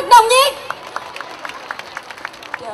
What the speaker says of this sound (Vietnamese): Xin dành một tràng pháo tay thật nồng nhiệt.